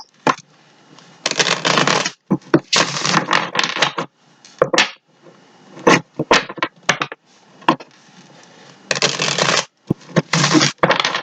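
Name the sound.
shuffling tarot cards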